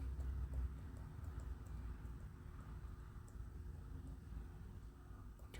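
The monster Rex in the ZX81 game 3D Monster Maze approaches with steady, low, thudding footsteps repeating in a regular rhythm over a constant background hum.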